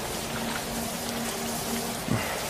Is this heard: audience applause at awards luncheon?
no